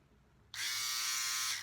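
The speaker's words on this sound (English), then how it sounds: "let's tackle this side of the face with one blade" A Philips Norelco OneBlade electric shaver switches on after a short quiet lead-in and buzzes steadily and close as it shaves a face, a bright sustained whir that cuts off at the end.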